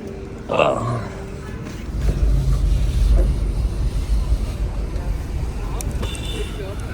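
Car interior ambience as a vehicle pulls away and drives along a city road in Myanmar, a low steady engine and road rumble building after a door shuts, with people talking over it.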